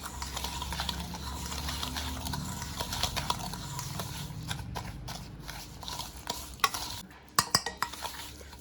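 Powdered sugar and oil being stirred together in a bowl, a soft continuous scraping and swishing of a utensil against the bowl, with a few sharper clinks of metal on the bowl near the end.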